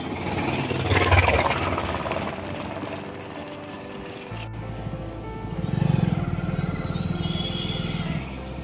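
A motorcycle ridden slowly into a church parking area, its engine rumbling and idling nearby with a low throaty growl that swells again partway through, steady and fairly loud.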